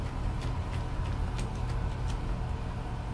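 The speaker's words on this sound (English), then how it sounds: "You may be able to hear the exhaust fan" A bathroom exhaust fan runs as a steady low hum and whoosh, filling the background continuously with a few faint ticks over it.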